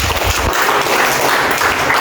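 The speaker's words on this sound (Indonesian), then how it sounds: "Tepuk tangan buat kalian" Steady applause from a school art class, dense and continuous clapping throughout, fairly loud and close.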